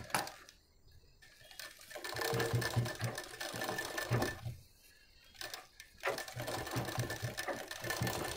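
An electric sewing machine stitches the lining of an Ari work blouse, running in fast whirring bursts with brief pauses between them, close and steady.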